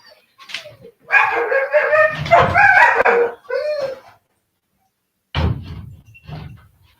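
A pet dog barks and yelps excitedly at a cat that has come near it indoors, several close bursts with short gaps between them.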